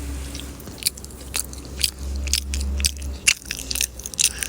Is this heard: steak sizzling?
no